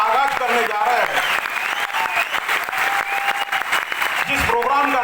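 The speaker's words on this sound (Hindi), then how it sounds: "फिर से एक बार आपके जोरदार तालियों से इस प्रोग्राम का हम आगाज करने जा रहे हैं" Loud, sustained applause from an audience at a business event, dense clapping filling the room while music or tonal sound plays along and briefly swells near the end.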